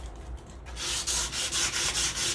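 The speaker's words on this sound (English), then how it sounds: "brand new sandpaper, it is better at removing the stain" Sandpaper rubbing across a stained wooden front door, a steady rasping scrape that starts softly and then settles into loud, rhythmic back-and-forth strokes close by, with no voices.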